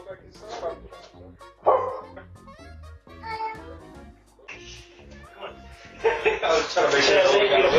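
A pit bull barks and yips in short bursts that grow louder and denser toward the end, close by, with people talking over the dog.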